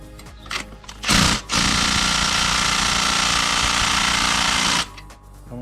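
An impact wrench hammers at a stuck bolt during a Kia Rio timing belt job: short bursts, then a long, loud, continuous rattling run of about four seconds before it stops.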